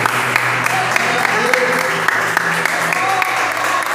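A church congregation at a healing and deliverance service claps continuously, a loud, dense wash of applause with faint voices mixed in.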